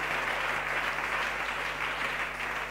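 A church congregation applauding, steady dense clapping that holds at an even level from start to finish, fairly distant and alone without voices.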